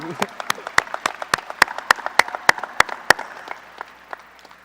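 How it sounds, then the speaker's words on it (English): Scattered clapping from a graduation crowd in the stands at a high school ceremony, with distinct individual claps in a loose, uneven rhythm that thins out toward the end, fairly near. "Now let's give them applause."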